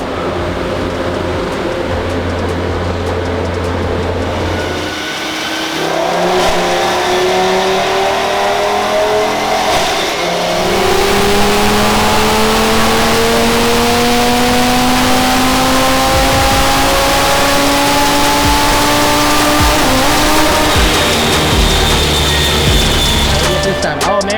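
An Audi TT fitted with a Lamborghini engine cut in half roars on a dyno, the engine note climbing steadily through repeated hard pulls, loud and close, with the pitch rising smoothly as it revs up.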